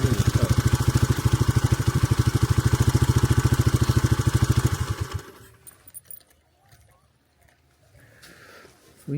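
A vintage Honda XL250S motorcycle engine runs with a steady, loud, rapid thumping for about five seconds, then cuts off abruptly, leaving quiet background with faint movement and a soft final knock.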